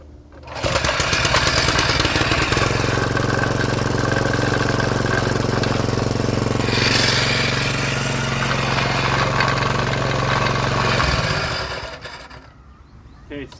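Small rototiller engine running steadily on slow choke, a loud close mechanical drone holding for about ten seconds before cutting out, with a voice heard briefly.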